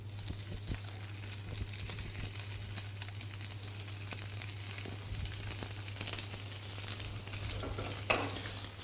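Scallops lightly seasoned with curry powder sear in a smoking-hot pan, making a soft, steady sizzle with scattered crackles and one sharper pop near the end. No one speaks.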